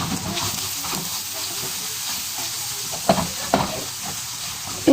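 Diced onions hit a hot pan and sauté with a steady steamy hiss, broken by a few sharp knocks of a utensil near the end, with no voices.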